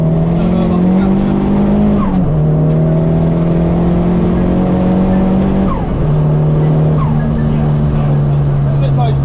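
Turbocharged Toyota Starlet Glanza with a big turbo and 307 bhp, heard loud and close from inside as the engine drones steadily through a corner, pitch dipping and rising with gear changes, people talking over it.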